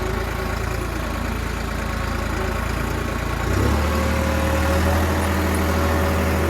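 A New Holland 5620 tractor engine runs steadily in a field during sowing, giving a continuous, fairly loud, low drone. Partway through, the engine note deepens into a heavier rumble.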